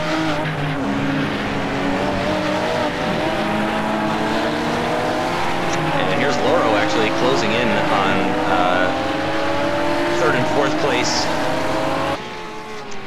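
A RUF race car in the iRacing sim racing game at Circuit Gilles Villeneuve drones steadily with a loud, layered engine note, revs rising and falling through gear changes, under continuous commentary, until a sudden cut near the end.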